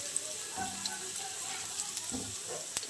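Faint, steady sizzle of panch phoron, dry chilli and chopped garlic frying in hot oil, with light stirring clinks and scrapes now and then.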